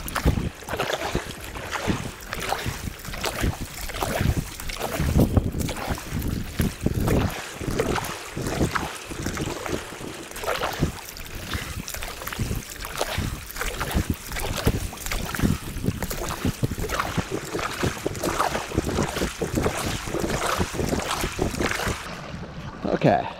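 Stand-up paddling on a Gili Air 11'6 inflatable board, with steady rhythmic paddle strokes splashing through water amid constant wind buffeting the microphone, close and continuous throughout.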